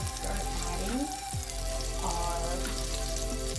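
Onions and garlic drop into melted butter in a pot and start a steady close-up sizzle, with a couple of soft clinks and bubbling crackles in the background.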